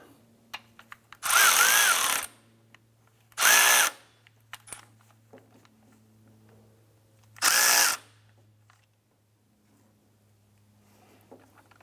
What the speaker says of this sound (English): Go ahead and tighten this up.